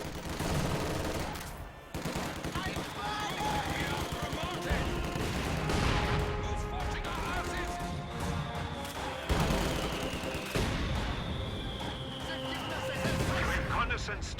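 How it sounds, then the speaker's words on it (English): Mortar blasts and rattling gunfire fill a battle in a strategy video game, repeated booms and crackling bursts stacking over a dense, continuous wash of combat noise, with a voice talking over it. "Mortars dealing minor damage to some of my squads in cover"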